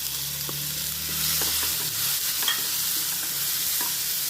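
Chopped boiled jackfruit seeds are stirred into a frying ground coconut masala, a dense close sizzle with a low hum early on and light spoon scrapes, no one talking.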